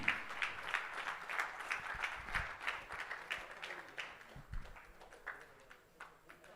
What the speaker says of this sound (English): let's give a huge round of applause for that